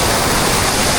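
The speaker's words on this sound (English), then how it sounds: "The water is coming down hard right now." A waterfall in Siquijor, Philippines pours down hard, a loud, steady, close rushing roar of falling water with no pauses and no voices.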